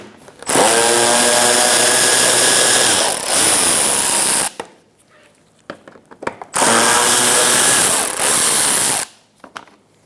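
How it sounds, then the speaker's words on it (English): Power tool with a 21mm socket spinning off lug nuts on a 2004-2009 Mazda 3 wheel, two loud whirring bursts of several seconds each with pitch shifts as the nut frees, separated by a short quiet gap. "Using a 21mm socket, we're going to remove our lug nuts to take the wheel off."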